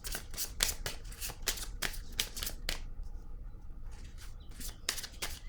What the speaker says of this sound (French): Je vais piger une carte rose par curiosité pour elle.